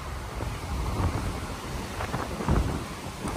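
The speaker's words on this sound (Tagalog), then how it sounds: "Grabe, napakalakas ng hangin ngayong hapon" Strong afternoon wind at the Manila Bay Baywalk near Dolomite Beach buffets the microphone in low rumbling gusts, swelling noticeably twice amid a constant airy roar, with no voices heard.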